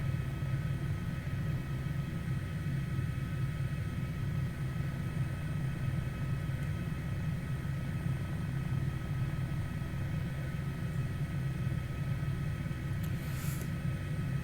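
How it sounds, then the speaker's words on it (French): Helicopter in Microsoft Flight Simulator 2020 flying over Lake Geneva, heard as a steady, even cabin drone of engine and rotor that holds at the same moderate level throughout, with no talking. "c'est quand même un hélicoptère qui peut voler assez rapidement"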